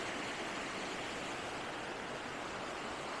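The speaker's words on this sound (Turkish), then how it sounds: "Şelale 10 numara." A waterfall roars as a steady, dense wash of falling water, continuous and fairly faint, with no voices over it.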